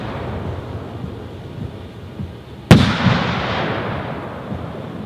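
A six-inch aerial firework shell, gold Arita with blue pistol, bursts once with a sharp loud boom halfway through, followed by a long crackling, fading tail over steady outdoor background noise.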